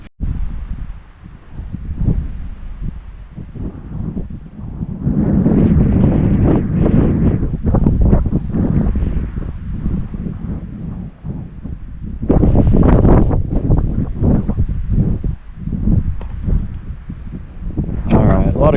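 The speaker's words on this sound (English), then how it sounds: "count on it being windy up here" Strong wind gusting on the snowy summit area of Kuwohi (Clingmans Dome) in the Great Smoky Mountains: loud, low buffeting against the microphone that surges and eases in irregular gusts.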